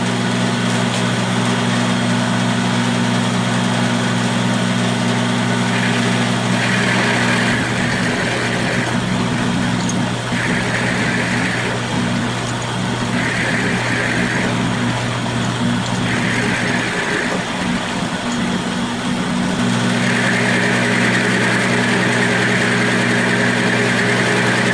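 A milling machine cuts a metal piece clamped in a vise, its motor holding a steady, loud drone while rougher cutting noise comes and goes in several bursts.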